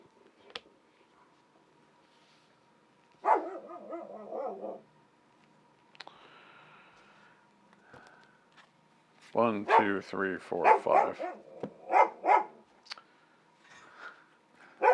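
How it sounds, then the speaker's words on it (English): A neighbor's dog behind the window barks in loud, rapid clusters near the end after quieter stretches, with a person counting aloud earlier and between barks in an indoor room. "That's our neighbor dog. Neighbor dog can see in the window where I'm filming this and likes to bark at me."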